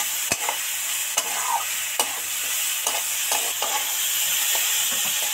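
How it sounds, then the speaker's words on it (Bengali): Spices fry in oil with vegetables for a Bengali greens dish, a steady sizzle under repeated scraping strokes of a spoon stirring the pan, close and even throughout. "এবার ধরে ধরে 2-4 মিনিট ভালো করে নাড়তে থাকবো যতক্ষণ না এই মশলা থেকে তেল ছেড়ে যায়।"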